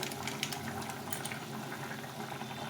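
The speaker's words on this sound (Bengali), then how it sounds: "তরকারিটা ফুটে গেছে" An egg curry simmers in a pot on the stove, giving a soft continuous bubbling and gurgle, close and fairly quiet with no voices.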